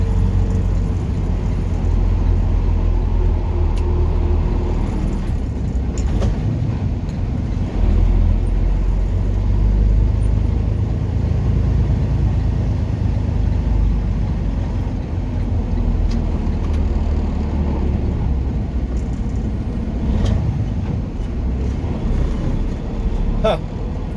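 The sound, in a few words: car driving in highway traffic through Kansas City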